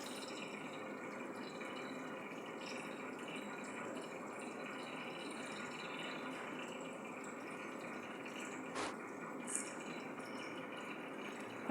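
A covered pot of mashed yam simmers on the stove, giving a steady soft bubbling hiss with faint watery sputters throughout and a couple of brief clicks near the end, with no voices.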